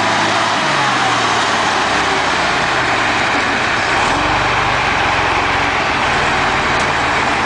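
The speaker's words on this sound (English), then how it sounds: "A large, dark green military truck prepares to tow a massive industrial tank trailer." Large dark green military truck preparing to tow a massive industrial tank trailer, its engine a steady, loud, strained drone mixed with broad hissing noise throughout.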